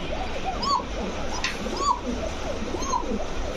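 A pair of Kokka pigeons, a new pair of original Basiraj Kokka birds, coo in short rising calls roughly once a second, close by and fairly clear over a noisy room background.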